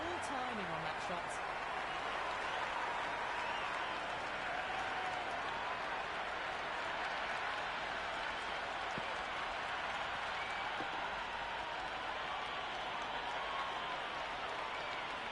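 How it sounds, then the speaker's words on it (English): A cricket crowd at a T20 exhibition match between India and a Team of the Tournament side cheers and applauds as a steady, loud, dense roar that holds for the whole stretch, with an announcer's voice partly buried beneath it. "The crowd are really getting quite raucous"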